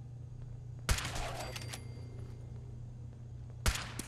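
Two distant gunshots crack out several seconds apart amid the low ambient hum of Fallout 4's Nuka World, each a brief sharp report trailing off quickly.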